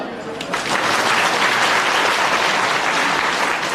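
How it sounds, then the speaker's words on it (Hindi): A large audience at a satsang gathering in a Ramnagar temple breaks into loud, dense applause that swells quickly and holds steady as a continuous wash of clapping. "उनके लिए तालियां बजाओ"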